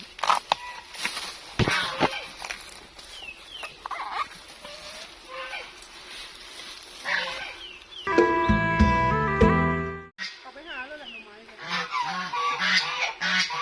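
Geese honking on a farm, repeated loud harsh calls near and far over a rural background, with a dog-like yelp, a short burst of tonal music and some voices talking.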